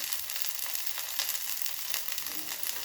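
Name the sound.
frying onion and ginger spice paste with turmeric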